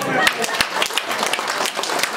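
Audience clapping at a large company gathering, a brief burst of scattered hand claps that is fairly close and moderately loud, with talk running through it.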